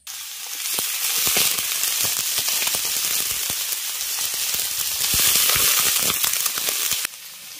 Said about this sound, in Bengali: তারপর যে কুঁদরিগুলো কেটে নিয়েছি সেগুলো জল থেকে তুলে এই তেলের মধ্যে দিয়ে দেবো।